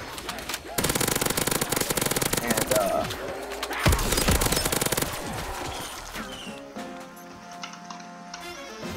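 The Death Machine minigun in Black Ops 3 zombies fires a dense, continuous roar of rapid shots for several seconds. It then trails off into quieter game sounds.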